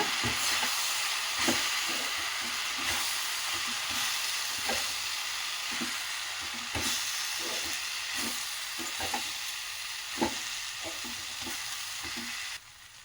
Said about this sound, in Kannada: ನೋಡಿ ಈಗ ಚೆನ್ನಾಗಿ ಫ್ರೈ